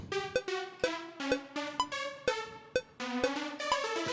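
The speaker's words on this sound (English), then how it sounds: "So this basic melody with metronome sounds like this." A synthesized melody of clear pitched notes plays over a steady metronome click, the clicks sharp and evenly spaced throughout.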